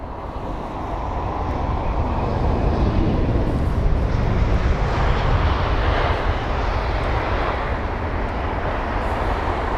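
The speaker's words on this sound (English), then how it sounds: "So there's the Avianca 7878 Dreamliner" An Avianca Boeing 787 Dreamliner airliner at London Heathrow gives off a loud continuous engine roar that builds and holds steady throughout, with no talk.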